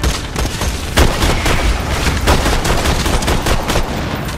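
Dense, loud gunfire from Borderlands 2, with rapid overlapping shots and sharp bursts in an unbroken barrage that runs through the whole stretch and no talk over it.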